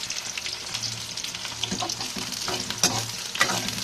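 Green chillies go into hot oil with onions already frying in a pan, giving a steady close sizzle and crackle with small pops and the occasional stir throughout.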